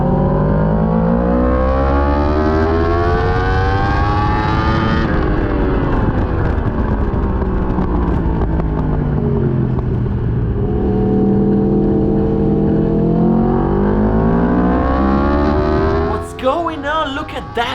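A racing motorcycle on a track runs at full throttle down the straight, its engine roaring loud and close with a long sustained pitch that sags and climbs again. A gear change comes near the end.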